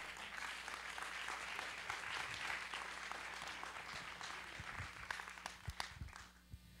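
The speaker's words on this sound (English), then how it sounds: "Make some noise for the babies, because they're at the heart of the project." An audience at a community arts event claps and cheers loudly in a sustained burst, the dense applause gradually thinning into scattered individual claps toward the end.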